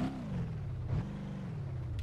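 A car driving in the video game BeamNG.drive gives off a steady low engine drone with a slight dip in pitch midway and a brief surge, continuous and moderately loud with no talk.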